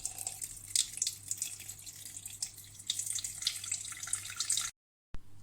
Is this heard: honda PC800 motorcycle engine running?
no